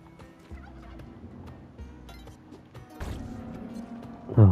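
Turkey gobbling in the video game Spelunky 2, rising to a loud burst of rapid warbling at the end over a busy background of game sounds and music.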